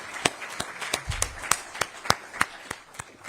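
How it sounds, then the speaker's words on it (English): Scattered hand claps ring out at an event honoring the governor of New Jersey, a thin, uneven patter of individual claps rather than a full crowd roar. "let's have one more round of applause for the governor of the state of New Jersey"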